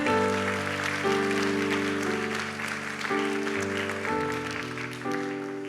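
A church congregation applauds steadily to welcome a newly installed pastor during a worship service, continuous clapping over sustained keyboard chords.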